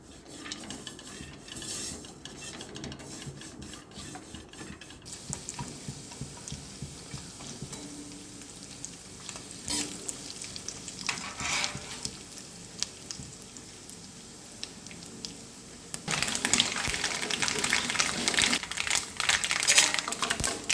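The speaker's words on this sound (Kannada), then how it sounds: "ಸಾಸಿವೆ ಎಲ್ಲ ಹಿಡಿಯಿತು" Cumin, cashews and mustard seeds splutter in hot ghee for a tempering, giving steady fine crackling and popping that swells louder and denser near the end, with no voices.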